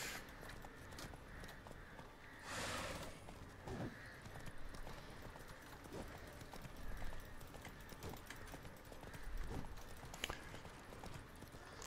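Roach the horse's hooves clip-clop steadily across the ground in The Witcher 3, faint and fairly soft beneath a wash of ambient game sound.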